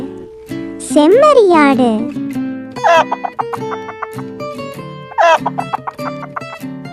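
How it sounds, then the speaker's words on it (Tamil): A farm chicken clucks and squawks in short bursts, with rising and falling calls over a steady musical background. "இதுதான் நம்ம கோழி."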